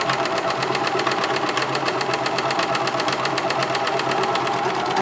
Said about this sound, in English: So put a scrap of your fabric underneath the presser foot in line with the needles and start sewing.